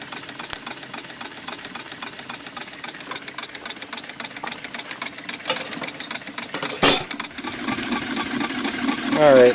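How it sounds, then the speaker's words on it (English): Homemade steam engine running steadily, a close rhythmic knocking and chuffing with hiss and rattle that grows louder near the end, with a brief thump partway through. "so now the engine is running correctly and it's not stalling like it was yesterday"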